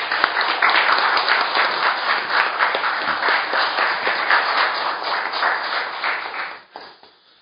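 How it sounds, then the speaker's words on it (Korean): Audience applause at a panel debate on Korean history textbooks, honoring two elderly co-chairs; steady, dense clapping from a sizable room lasts about six and a half seconds before tapering off to quiet. "박수 한번 부탁드리겠습니다"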